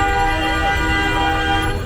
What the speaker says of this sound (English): He keeps honking, and I have no idea why.